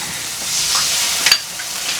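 Pitha fries in a village kitchen with a steady, close sizzling hiss, broken by a few brief stirring clatters and no talk.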